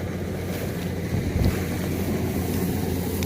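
A Kubota combine harvester engine revving, a loud, steady low mechanical drone with a harsher swell and thump midway, wind-buffeted throughout.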